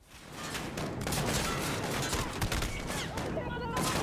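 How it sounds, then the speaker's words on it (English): Suppressed M14 rifle shots in a Call of Duty game, a dense burst of rapid, loud cracks and booms in close succession, with a voice talking over them. "we see the player here taking out lights with the M14"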